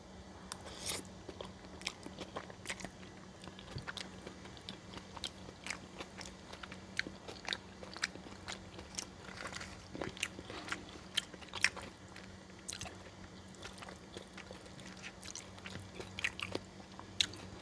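A Trader Joe's noodle bowl being eaten close to the microphone, with soft repeated chewing, biting and slurping sounds and quiet wet mouth noises, without talking.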